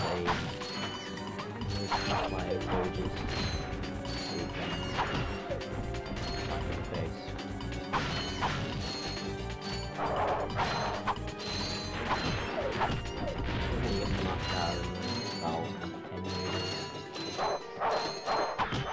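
Elevator ride in the video game Ratchet & Clank HD: continuous loud mechanical whirring and clanking with repeated metallic crashes and thuds, heard up close with no talking.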